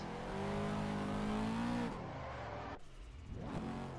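A car engine in the Assetto Corsa racing game revs while drifting, held at a steady loud pitch before dropping off and swelling again, with gear-like shifts and no voices.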